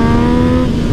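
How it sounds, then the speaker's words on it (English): A Yamaha MT-09 motorcycle accelerates hard as the throttle is ripped, a loud close engine note with a strong rising tone over a brief burst. "I just rip the throttle,"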